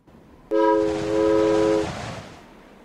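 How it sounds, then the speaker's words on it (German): A train pulls in during a German point-and-click adventure game, sounding a loud sustained multi-tone horn blast from the first half-second with rumbling rail noise underneath, fading out near the end. "Hier kommt der Zug."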